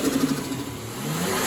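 A Lexus IS300 engine runs after being reassembled, a steady close rumble that swells slightly toward the end, with no talk.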